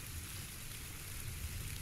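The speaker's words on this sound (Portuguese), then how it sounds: "Com a chuva é mais difícil ouvir os passos" Rain falls in the video game PUBG, a faint, steady hiss of rain on surfaces lasting under two seconds.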